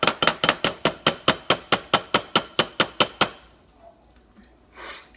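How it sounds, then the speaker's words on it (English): A utensil scrapes out the last peanut butter from a jar in a quick run of about fourteen rapid, even clinks and scrapes. It stops abruptly and leaves near-silence, with a faint rustle at the end. "Like this video if you scrape your peanut butter jars like this"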